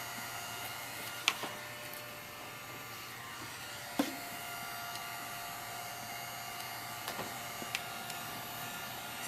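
A heat gun fusing encaustic wax blows with a steady, faint hum and airy whoosh, with a few sharp clicks and taps scattered over it and no talking.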